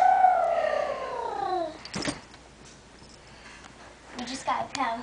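A cat growls in a corner with a long, falling, strained moan, followed by a few short sharp vocal bursts after a quiet stretch, close by.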